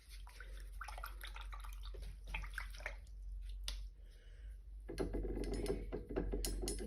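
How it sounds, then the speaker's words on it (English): A watercolor paintbrush swishes and rinses in a water container, with soft splashy, clinking bursts over a constant low hum, growing busier near the end. "Okay, rinse my brush a little bit more."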